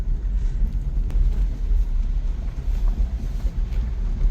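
A vehicle drives out from a fort onto the seashore, giving a steady low engine rumble with wind buffeting throughout, continuous and fairly close.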